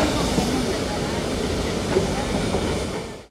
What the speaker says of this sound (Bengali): নীলগিরি মাউন্টেনের রেলপথে আমাদের টয় ট্রেনে ছুটে চলা